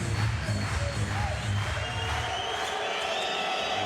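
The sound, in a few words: basketball arena crowd cheering, whipped up by a player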